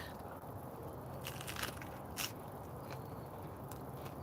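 Crunchy food with lettuce being chewed close to the mic, a few soft crisp bites and crunches over low background noise, no talking.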